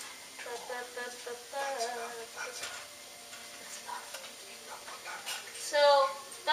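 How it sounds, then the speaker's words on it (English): A frying pan sizzles with a soft, steady hiss under close conversational talk, faint and continuous throughout. "you can hear the pan starting to sizzle"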